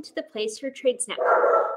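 Dogs bark indoors during a trading-network broadcast, with short yips and barks mixed under and between a man's spoken words.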